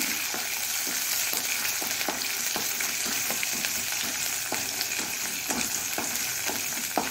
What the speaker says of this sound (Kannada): ಸಾಸಿವೆ ಒಡಿತಾ ಉಂಟು, ಟಪ್ ಟಪ್ ಶಬ್ದ ಆಗುವಾಗ